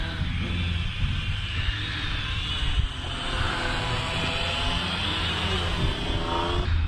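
An Ascend Aeronautics ASC-2450 HD video drone flies nearby, its motors giving a continuous loud whirring hum that wavers slightly in pitch over several seconds, with steady wind-like noise underneath.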